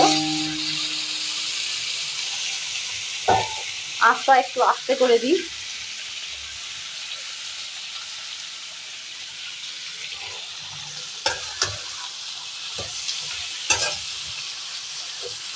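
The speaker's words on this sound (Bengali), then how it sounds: "এরপর আমি দিয়ে দেবো ম্যারিনেট করা মাংস।" Onion and marinated chicken frying in a pan for spicy kosha chicken, a low steady sizzle with a few clattering stirs near the start and later scattered scrapes, and a brief spoken remark early on.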